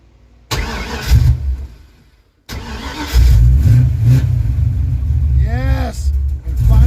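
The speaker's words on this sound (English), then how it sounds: "I can finally start my car from inside the cab." Car engine cranking and catching from inside the cab of a project car getting basic tuning and repairs, a starter burst followed by a steady loud idle rumble, with a brief chirp near the end and no talk.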